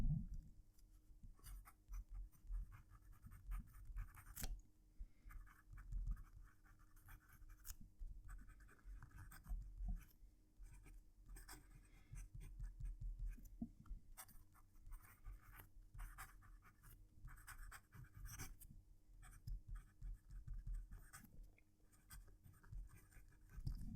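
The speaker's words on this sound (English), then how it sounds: "I'm going to reposition the mic so you can hear the pen writing again" A PenBBS 456 fountain pen writes on Clairefontaine paper, close to the mic, with soft, faintly scratchy nib strokes coming in short irregular bursts and pauses over a quiet background.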